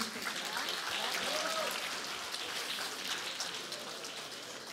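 Faint, distant audience applause at a concert award ceremony honoring a student from a Burgas high school, heard as a soft, even patter for several seconds, with brief vocal sounds mixed in.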